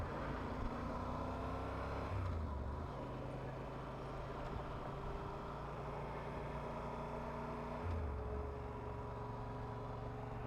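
Cars and trucks pull out and drive past on a road near Mazatlan in Sinaloa, a steady close engine drone with gear shifts and rising and falling tones heard from inside a moving vehicle.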